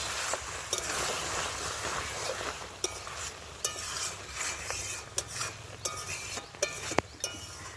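Cooked goat intestine gravy scraped and poured from a cooking pan, with metal utensil clinks and sharp scraping ticks over a steady low sizzling bed, close and fairly quiet.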